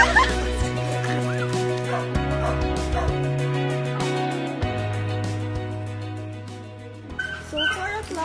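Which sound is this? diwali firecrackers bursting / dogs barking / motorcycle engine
dogs barking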